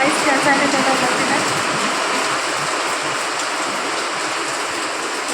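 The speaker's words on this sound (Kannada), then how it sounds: "ಇವಾಗ ಸಡನ್ನಾಗಿ ಫುಲ್ ಮಳೆ ಫುಲ್ ಜೋರಾಗಿಬಿಡ್ತು." Sudden heavy rain pours down in a loud, steady wash of noise that fills the whole span without letup.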